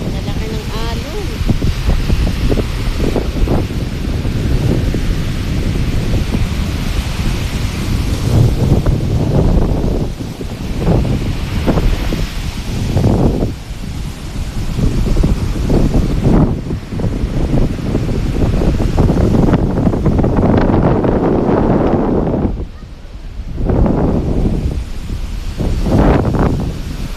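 Strong wind buffeting the microphone with heavy waves surging at sea ahead of an approaching storm, a loud continuous roar rising and falling, with speech in places.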